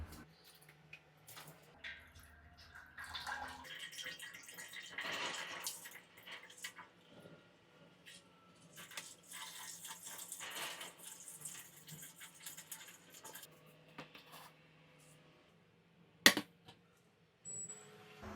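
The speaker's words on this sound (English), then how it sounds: "We open the tap and we collect all our beer." Wort runs steadily from the tap of a home-brewing pot into another pot, a soft trickling splash with a few clinks and a sharper knock near the end.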